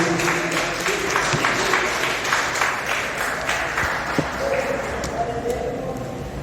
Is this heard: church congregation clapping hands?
yes